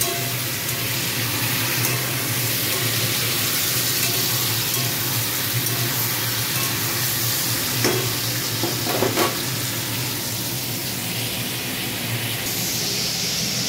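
Whole green chillies frying in a pan of hot oil, a steady loud sizzle throughout with a couple of brief clinks of stirring near the middle.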